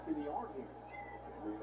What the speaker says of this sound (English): Sorry, cat's meow.